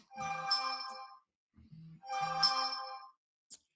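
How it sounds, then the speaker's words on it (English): A phone ringtone plays twice in a row, a bright melodic chime pattern with a short pause between rings and a brief blip after, clear and alone without talk. "Phone is just blowing up today."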